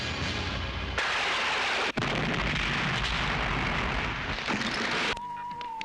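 A den is blown up in a film scene: a loud, sustained roaring blast with heavy rumble fills nearly the whole stretch, briefly cut off once, then gives way to a thin steady tone at the end.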